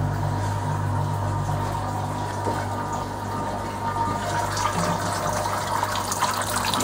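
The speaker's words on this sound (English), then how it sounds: "We have hot boiling water coming into here." Water rushes steadily through pipework over a constant low machine hum, a continuous gushing flow with no voices: hot boiling water flowing through tubes into a heat exchanger during a homebrew rig wet test.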